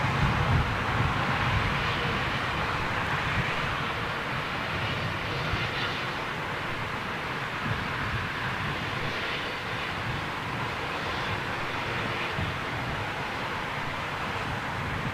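A jet airliner departs London Heathrow on an intersecting runway, its engine roar a broad steady rumble from a distance that swells slightly and holds throughout, with no voices.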